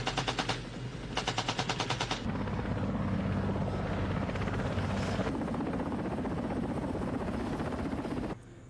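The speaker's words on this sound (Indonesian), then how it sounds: "Dia pun berangkat ke Pubay bersama Rafterman menggunakan helikopter." A helicopter's rotor thuds steadily and loudly in a Vietnam War film, with bursts of rapid machine-gun fire early on, all continuing without pause until a sudden drop at the end.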